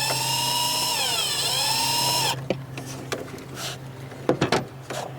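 A power screwdriver with a screwdriver bit works a clamp on a car engine during a spark plug and coil change, first a steady whirring motor that slows in pitch, then scattered metallic clicks and knocks at close range.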